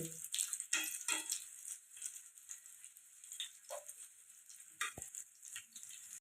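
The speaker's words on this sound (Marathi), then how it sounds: "ह्याला पाच मिनटं लागलेली आहेत मिरच्या फ्राय करायला" Stuffed green chillies frying in a pan, a faint steady sizzle broken by several sharp clinks and scrapes as they are turned, with no talking.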